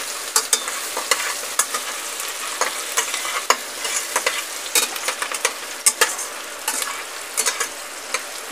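Onion fries in a pan with steady crackling sizzle and frequent sharp pops and scrapes from stirring, close and moderately quiet, with no talking.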